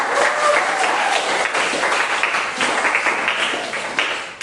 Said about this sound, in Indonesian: Oke, beri aplaus untuk kelompok.